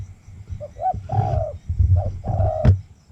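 Zebra dove calls play through a loudspeaker for bird trapping: a close, loud series of soft rolling coos and trills in a repeating pattern, with a faint low hum underneath and no voices.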